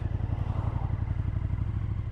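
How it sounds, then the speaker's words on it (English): A 2017 KTM Super Duke motorcycle engine rumbles steadily and close up for the whole stretch, a low, pulsing throb with no talk over it. "And the noise from the engine, I don't know how much you can hear."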